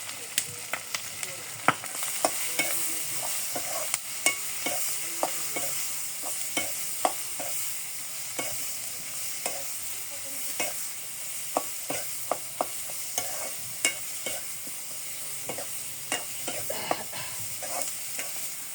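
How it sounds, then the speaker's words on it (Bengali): Chopped onion and green chili frying in leftover fish oil, a steady sizzle broken by regular scraping stirs of a spatula against the pan, close and even throughout with no speech. "মাছের তেলের সাথে পেঁয়াজ কাঁচামরিচ একটু কষিয়ে নিয়ে আলু দিয়ে দিলাম।"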